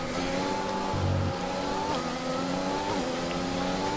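Formula 1 cars race in the F1 20 game at Silverstone's British Grand Prix, a loud, high-revving engine whine that climbs and drops through gear shifts over a steady roar, with no talking.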